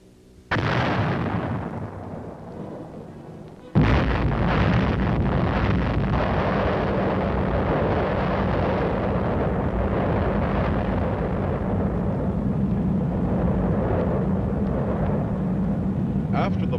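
A blast on an atomic battlefield: a sharp burst, then a second heavier detonation that swells into a loud, sustained roaring rumble with a wind-like rush.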